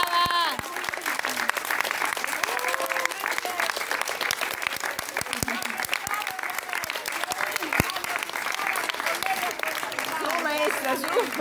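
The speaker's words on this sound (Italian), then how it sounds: "Un applauso alla maestra Stefani." Applause for the teacher at a school year-end show, a crowd clapping steadily and loudly for the whole stretch, with voices calling out over it.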